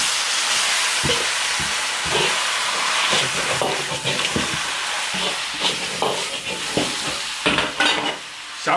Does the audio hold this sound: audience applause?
no